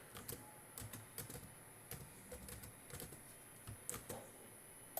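Typing on a computer keyboard while coding a Python Django student management project: quiet, irregular keystrokes in short clusters, close and soft, with no voice.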